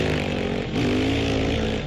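A scooter engine in an animated horror story hums with a steady, buzzing drone for about two seconds, and its pitch rises slightly partway through.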